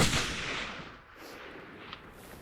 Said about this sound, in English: Then we decided let's shoot the 300 just to see how close it is to being on